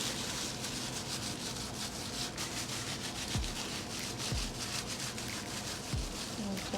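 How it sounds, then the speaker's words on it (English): Hands rubbing seasoning into a chuck roast, a continuous soft, broadband rubbing and squishing close up with a few faint low thumps, steady throughout and without talk. "Rub all this flavor in on my roast."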